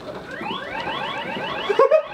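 A touch-triggered smart security system alarm sounds a rapid series of rising electronic sweeps, loud and close, ending with a brief clattering bump.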